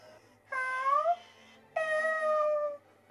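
A Little Live Pets electronic toy kitten gives two drawn-out, clear meows, each about a second long, separated by a short pause in a quiet room.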